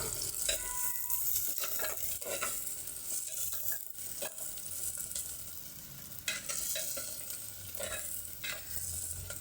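Chopped onion sizzles steadily in a pan for egg bhurji, with a spatula scraping and stirring through it in repeated strokes, close and fairly loud, with no voices.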